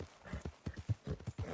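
Horse hooves in Red Dead Online, a quick regular clip-clop rhythm at a trot, fairly faint and heard alone.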